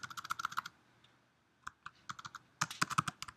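Typing on a computer keyboard while setting up a Google Sites page: bursts of rapid, close key clicks, a pause with a few isolated taps, then another quick run of keystrokes.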